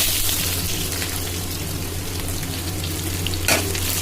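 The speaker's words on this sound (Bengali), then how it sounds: "এবার একটু ভাজা হোক" Onion with five-spice fries in hot oil, a dense, continuous sizzle close up and alone, with a brief sharper stir or scrape near the end.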